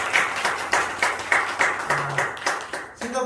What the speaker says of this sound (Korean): 우리 서로를 격려하며 박수 한번 드리겠습니다.